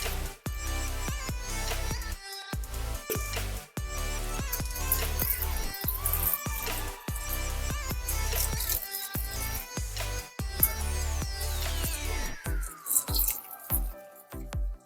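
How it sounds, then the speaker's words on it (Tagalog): Water drips and splashes in quick irregular drops, close and fairly loud, with brief gaps and a rising filling tone near the end. "Natulo siya."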